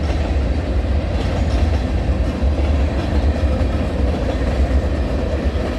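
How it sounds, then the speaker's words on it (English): A detouring VIA Rail train with a DPU passes close by on the CN Halton Subdivision on a Saturday night, giving a loud, steady rumble with continuous clickety-clack of wheels over the rails. "But this train does have a DPU."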